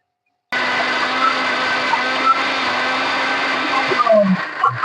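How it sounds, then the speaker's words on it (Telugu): A mixer grinder whirs into action after a half-second pause, blending tomatoes with salt and chili powder into a paste, its loud steady motor drone holding with a slight wobble near the end. "ఇప్పుడు ఇవన్నీ మిక్సీ చేసేసుకుందాం"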